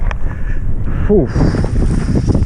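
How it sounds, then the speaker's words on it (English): Strong east-southeast wind roars and buffets the microphone during a hydrofoil ride over big bumps, a loud continuous rush with low rumble throughout. "Wind has been pumping from the east-southeast."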